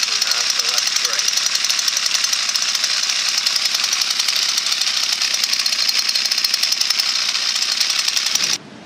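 A garden multitool's small engine runs smoothly at high revs after a clutch repair, a loud, steady buzzing drone that holds evenly before cutting off abruptly near the end.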